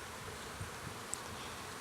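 Honey bees in an open hive during an inspection, a dense continuous buzzing hum that stays steady and fairly close, with no voices over it.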